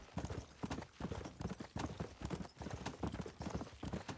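Rapid, rhythmic hoofbeats of a galloping horse in Red Dead Redemption: Undead Nightmare, close and steady, with a crisp clip-clop pattern throughout.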